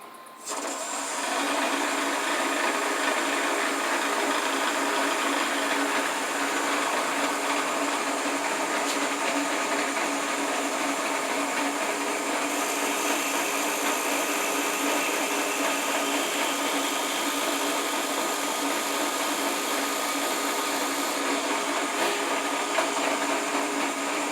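A CNC machine spindle spins at 1700 RPM while cutting a workpiece held against a fence, producing a steady, loud, high-pitched whine and whir that holds evenly for over twenty seconds with no talking.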